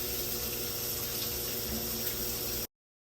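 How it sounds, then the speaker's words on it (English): Heavy rain pouring down outside, a dense steady wash of hiss and spatter heard continuously for a few seconds before cutting off abruptly. "I don't know if you guys can hear that, but it is absolutely dumping outside"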